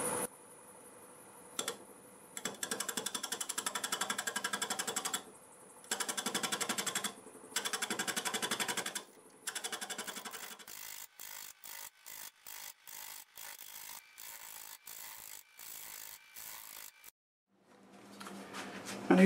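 Wood lathe spinning a London plane bowl at 700 RPM while a turning tool takes gentle cuts: scraping bursts of a few seconds each, then a run of quick, evenly spaced short strokes, close and moderately loud, with no talk.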